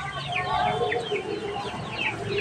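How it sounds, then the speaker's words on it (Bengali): Small chickens clucking and chirping in a village yard, a close, steady stream of short overlapping calls with a faint hum of voices behind them. "এই যে ছোট ছোট মুরগিগুলো রয়েছে"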